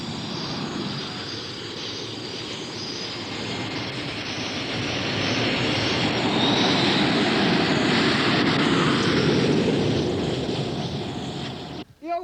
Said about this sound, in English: the backbone of their new air force is formed by Soviet-built MiG-21 jet fighters